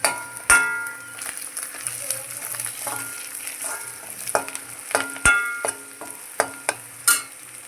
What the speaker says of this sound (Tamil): நல்லா வெங்காயம் வதங்கிடுச்சு. இப்போ நம்ம பச்சை மிளகா போட்டுக்கலாம்.